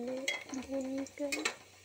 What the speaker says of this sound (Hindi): प्याज को थोड़ा भून लेते हैं।